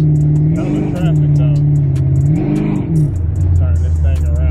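A car engine revs while driving, the pitch rising and falling in several steady surges before settling into a lower drone, loud and close with a voice speaking over it.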